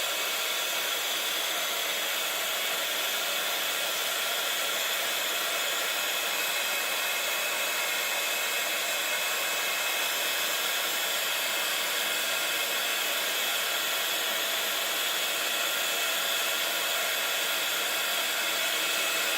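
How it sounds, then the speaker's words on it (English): A heat tool used for card making blows hot air in a steady, loud, continuous whoosh, running alone without any pauses or talking. "So always make sure you heat up your heat tool properly."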